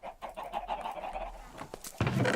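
A flock of chickens clucks continuously on a chicken farm in a building video game, with overlapping bursts of calls, fairly close and unmixed with talk, ending in a louder rustling burst.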